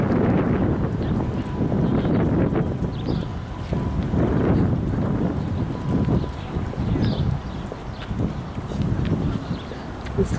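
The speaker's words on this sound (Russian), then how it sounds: "Сегодня ветрено." Gusty wind buffets the microphone steadily in a city-centre park in Riga, Latvia, a continuous low rumble across the whole stretch with faint background sounds.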